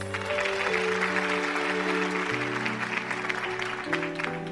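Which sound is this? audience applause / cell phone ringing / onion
audience applause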